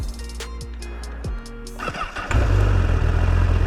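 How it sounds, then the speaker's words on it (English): A Honda CBR1000RR sport motorcycle's starter whines in quick pulses before the engine fires up and settles into a loud, steady idle rumble. "Let's go ahead and see how this bike sounds."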